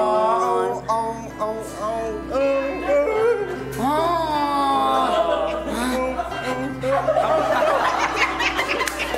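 A person imitates an affectionate puppy with high whimpering yelps and little barks, broken by laughter and chatter from others nearby.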